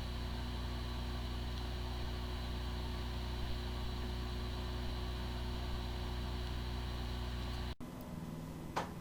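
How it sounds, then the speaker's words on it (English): A Western Digital Scorpio Black laptop hard drive with corrupted firmware spins up and runs with a steady faint whine and hum like a healthy drive, ending in an abrupt cut and a brief click near the end. "The following is the sound from one of the hard drive which experienced disk firmware corruption."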